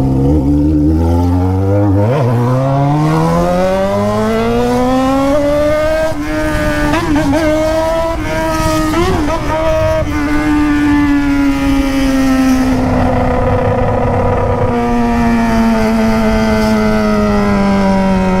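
A Jaguar XJ6 with a straight exhaust pipe roars loudly and close, its engine note climbing, holding, then sagging in a steady continuous drone, with no voices over it.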